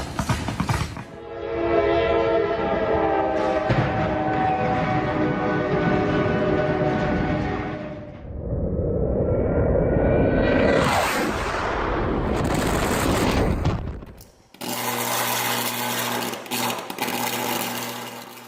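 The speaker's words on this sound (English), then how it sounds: "a tree collapses onto power lines, turning a calm residential street into a terrifying explosion in seconds" A sustained electrical buzz and roar swells and shifts as a tree collapses onto power lines on a residential street, then a sudden loud explosion cuts in near the end, followed by a steady harsh humming crackle.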